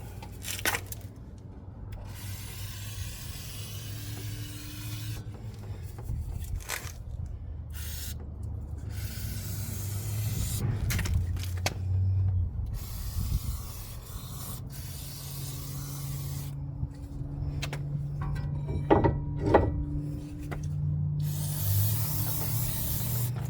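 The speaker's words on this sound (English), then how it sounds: "I like to spray everything off with some brake cleaner just to get any loose dust." Bursts of brake cleaner spray hiss in short pulses and longer blasts, close by on a 2016 Kia Sorento SX's front brakes, separated by brief pauses, with a low steady hum running underneath throughout.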